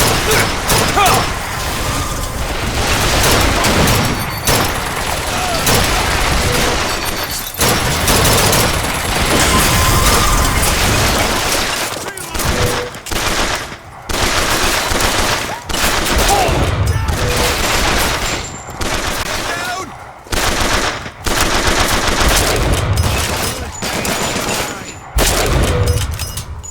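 Rapid automatic gunfire from a turret and other weapons in the BioShock Infinite video game, dense bursts of shots and impacts that pause briefly and resume, loud and chaotic, with occasional voices mixed in.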